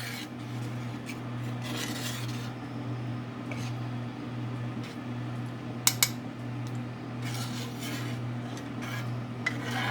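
Homemade alfredo sauce with cheese being stirred in a pot, a steady scraping and rubbing of the spoon against the pot over a constant low kitchen hum, with a few sharper clinks of utensil on metal.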